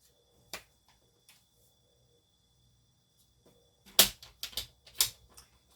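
Card stock is trimmed to size on a paper trimmer in a quiet room: a lone sharp click, a long pause, then a quick cluster of crisp slicing and clacking sounds close by.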